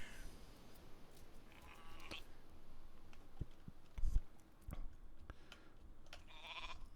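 Sheep in a video game bleat a few times at moderate distance over a low ambient game soundscape, with brief clicks and a louder thump midway.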